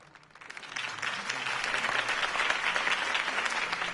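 Crowd applauding after a campaign speech in the Telltale Batman video game, a dense burst of clapping that swells within the first second and then holds steady and loud with no talk.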